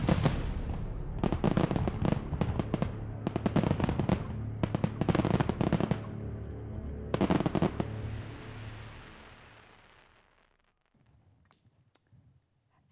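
A fireworks show crackles with dense bursts of rapid popping in several clusters, then a lingering hiss that fades away to near silence at the end.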